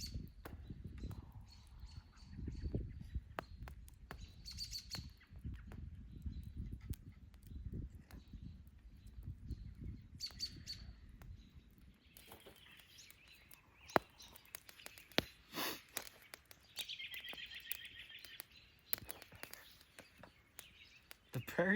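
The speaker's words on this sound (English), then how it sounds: "The birds are just active. Coming home to roost, I guess. And those birds sound pretty." Birds calling at dusk in snowy woods near a backpacking campfire: faint, scattered chirps and short calls at a distance, with soft movement and low rustling close by.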